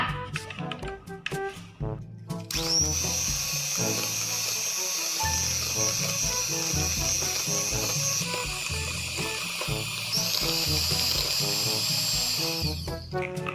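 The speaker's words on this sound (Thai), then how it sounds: "แล้วก็ตีให้เข้ากันให้น้ำตาลละลายเลยค่ะ" An electric mixer beats eggs and sugar into batter for a steamed grape cake, its steady high whine running for most of the stretch beneath louder background music.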